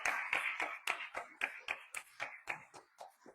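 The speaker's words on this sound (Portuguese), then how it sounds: "E estas palmas também vai para os futuros pais." A church congregation at Mass gives a round of applause, with a dozen or so crisp, evenly paced claps heard close by and without any talking.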